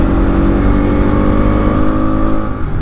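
Motorbike engine accelerating hard on an open road while overtaking, a loud steady drone with rising revs and wind rush, continuous and close throughout, no talking.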